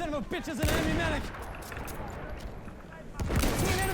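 Gunfire in the World War I shooter Battlefield 1, landing a headshot: a couple of sharp, loud broadband shots, one early and one near the end, with a voice chattering over them.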